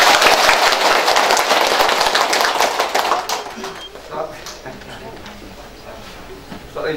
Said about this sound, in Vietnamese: một lần nữa xin một tràng pháo tay.